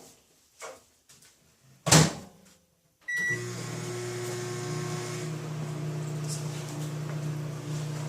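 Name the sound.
microwave oven running with a glow stick inside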